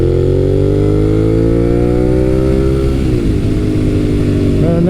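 A naked motorcycle engine, among bikes such as an SV650, GSX-S750, FZ1, ZRX1200R and Z900RS, accelerates with a loud, steady rising drone, then shifts and settles into a lower tone. No one speaks over it.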